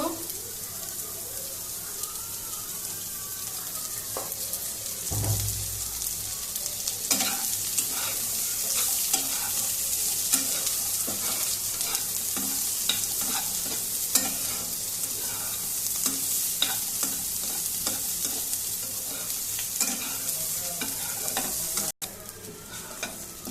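Onion and garlic fry in mustard oil while a spatula stirs and scrapes the pan, producing a continuous close sizzle with repeated scraping clicks over about twenty seconds, with speech faint or absent.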